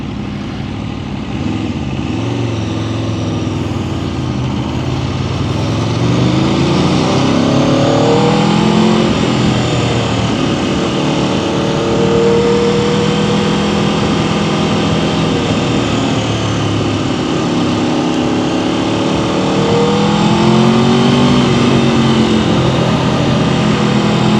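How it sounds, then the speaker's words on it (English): A 2026 Aprilia RSV4 Factory motorcycle engine revs up and eases off repeatedly while riding, the pitch climbing and falling in several loud sweeps, with steady wind and road roar underneath. "I can just do my RPMs up and down. And decel."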